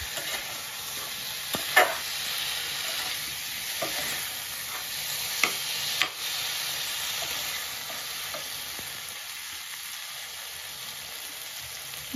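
Pointed gourd, potato and fish curry sizzles steadily in a pan as it is stirred, with a constant bright hiss and occasional scraping clicks from the spoon.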